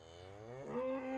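A calf or cow on a farm moos once on weaning day, a single drawn-out call that rises in pitch toward the end, fairly close and clear with no voices.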